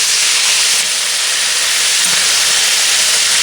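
Rabbit pieces fry in a pan under a lid, making a loud, dense, unbroken hiss of sizzling fat that holds steady from start to finish.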